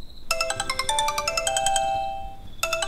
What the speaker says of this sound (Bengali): হঠাৎই ফোনটা বেজে উঠল।